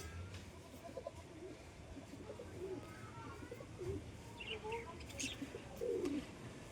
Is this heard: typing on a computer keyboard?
no